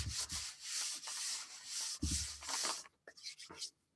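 Glued paper being rubbed down flat into a journal by hand: repeated close, dry scuffing strokes in short bursts with brief pauses between them, and no talking.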